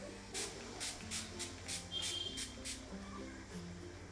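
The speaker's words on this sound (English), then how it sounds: "I'm gonna use the NYX setting spray in the dewy finish." A series of short, close spray bursts of NYX dewy finish makeup setting spray, about seven quick spritzes in a steady rhythm, with faint background hum.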